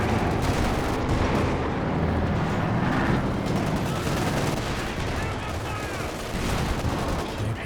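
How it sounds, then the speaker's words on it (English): Machine gun fire in Company of Heroes 2 battle, a dense, continuous crackle of rapid shots mixed with heavier booms and rumbling, loud and sustained throughout. "Rotating the machine gun to deal with the incoming P-Greens"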